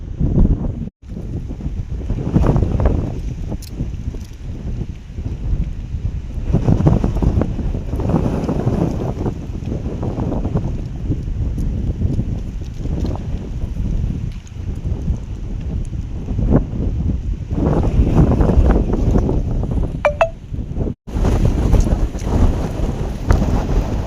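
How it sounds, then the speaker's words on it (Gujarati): Strong, swirling pre-storm wind near a temple, a loud continuous low roar buffeting the microphone in surging gusts with no talk. "પવનની તો ઘુમરિયું બહુ છે"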